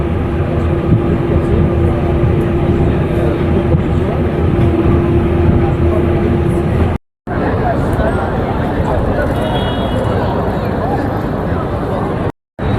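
Paris metro train riding toward the Champs-Élysées: loud continuous rumble and rattle of the carriage with a steady whine, briefly cut twice, crowd babble blending into the noise.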